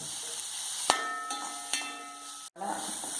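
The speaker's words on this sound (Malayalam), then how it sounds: "സവോളയും പച്ചമുളകും ഇട്ടു ഇതൊന്ന് വഴറ്റിയെടുക്കാം" Onions and green chillies sautéing in a pan, with a continuous soft sizzle broken by a few sharp taps and scrapes of a spoon.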